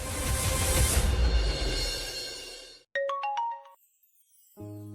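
After a burst of broad noise fades, a phone rings with a short tinkling melody of descending tones, then starts again after a brief pause.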